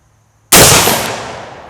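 A single loud, close gunshot from a refurbished Kammerlader rifle cracks sharply, then decays into a long fading echo.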